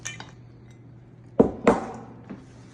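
Chopped apples and Snickers pieces are tossed together in a bowl, giving two distinct thumping clinks followed by a softer knock in a quiet kitchen.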